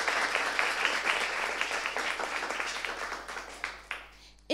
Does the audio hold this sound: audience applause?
yes